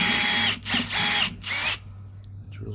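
Power drill boring into aluminium on a lamp mount for an exterior house lamp, several short whining bursts with brief pauses, close and loud, over a steady low hum.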